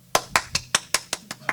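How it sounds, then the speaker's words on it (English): A person claps their hands seven times in an even, quick rhythm, with sharp, close claps spaced about a fifth of a second apart. "I clap hand"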